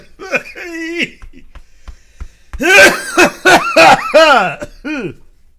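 A burst of harsh, repeated coughs, close and loud, with some throaty vocal sounds before them and a final cough trailing off.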